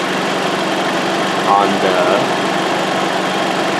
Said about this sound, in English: as you can see the engine running right now